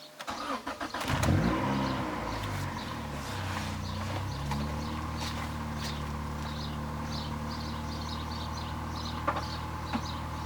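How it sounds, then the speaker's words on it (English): A 1987 Honda Accord hatchback with a swapped VTEC B-series engine cranks briefly and fires up, then settles into a steady, close idle that runs on unbroken with a faint ticking over the engine note. "I'll also see how well the car starts because I haven't started it in weeks."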